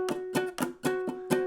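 Ukulele strings strummed with a too-hard muting touch, six quick chunky strums in an even rhythm, mostly percussive with only a faint pitched ring, close and alone.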